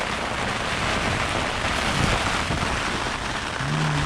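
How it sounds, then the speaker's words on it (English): Rain and strong, steady wind at a riverside camp on the Mackenzie River during a storm, a dense continuous wash of noise close to the microphone with no talk. "It's raining. Wind's pretty firm, and it's raining."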